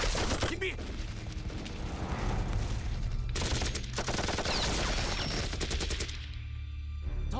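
Action-film gunfire, dense rapid bursts of automatic shots and crackling fusillades, loud and continuous, with a brief pause in the middle and fading out toward the end.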